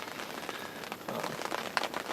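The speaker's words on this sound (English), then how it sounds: "and it just turned to rain." Rain falls in Michigan's Upper Peninsula in November after a day of snow, a soft steady patter on surfaces with scattered louder drops, faint and close.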